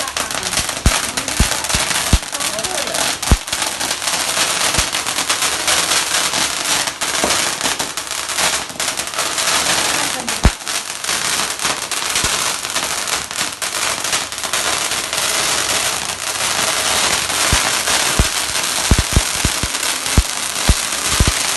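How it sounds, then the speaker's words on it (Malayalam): Vishu firecrackers burst outdoors in a long, dense barrage of sharp cracks and crackling pops that continues loudly and without a break. "പടക്കം ഡാൻസാണിത്"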